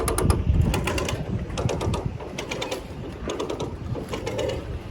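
A come-along winch being cranked to pull a 1976 shortbed squarebody truck, giving a steady run of close, loud ratcheting clicks from the pawl and gears for the whole stretch, with no talking.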